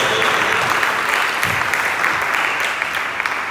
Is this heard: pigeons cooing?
no